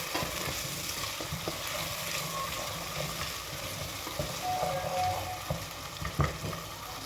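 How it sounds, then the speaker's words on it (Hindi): Chopped onions and a large cut tomato fry together in a pan. A steady close sizzle runs throughout, broken by occasional scraping and clicking from a spoon stirring the mixture, with no voices. "अब इसको 2 से 3 मिनट तक इसकी फिर भुनाई करेंगे ताकि जो टमाटर है ना ये भी इसके साथ गल जाए"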